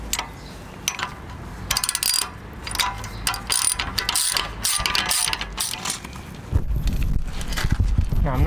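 A ratchet clicks in quick bursts while bolts are tightened on a Ricochet skid plate for a Kawasaki Versys X 300, with metallic ticking and small mechanical rattles close by and pauses between runs.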